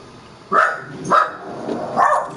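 Several dogs bark at a video game (Batman: Arkham City) being played indoors, giving three loud separate barks over about two seconds with short gaps between them, and no voices are heard.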